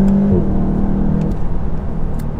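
A VW Golf GTI TCR with 290 hp accelerating on the road, engine note rising briefly then settling into a steady whirring drive, close and loud, no voices.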